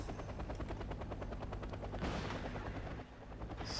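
Attack helicopters firing missiles in the Wargame AirLand Battle video game: rapid repeated firing bursts over a rotor-like drone, with a louder whoosh midway, dense and continuous.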